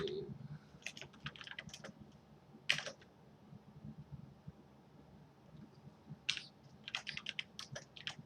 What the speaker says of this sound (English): I just need to type out a bunch of the variables